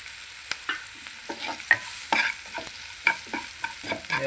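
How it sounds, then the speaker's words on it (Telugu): Radish curry fries in oil in a pan, a close, steady sizzle with repeated spatula scrapes and clicks at an uneven rhythm and no voices. "ఆయిల్ బాగా ఫ్రై అవ్వాలి"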